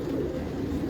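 Pigeons of prized breeds cooing steadily inside a loft, a continuous low murmur of many birds close by with no voices.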